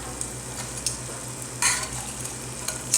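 Jalebi batter frying in hot oil gives a steady low bubbling sizzle, with several brief louder crackles and scrapes of stirring breaking through at intervals.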